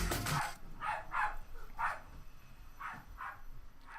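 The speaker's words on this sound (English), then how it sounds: "if you can hear my dog in the background as the Hoover for some reason is on" A dog barks repeatedly in the background, sharp separate woofs spaced about half a second apart, moderately distant and fairly loud, while a vacuum cleaner hums faintly nearby.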